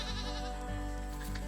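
A goat bleats in a mountain meadow in a faint, wavering call, steady throughout and heard alone over a low, constant hum.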